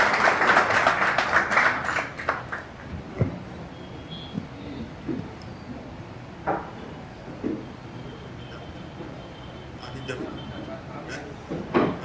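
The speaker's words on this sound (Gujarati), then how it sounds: "એકવાર તાળીઓ થઈ જાય સાહેબ માટે." An audience in Surat claps for a speaker taking the stage at a lecture event, the applause strongest at the start and fading within a few seconds, then scattered knocks and murmuring voices.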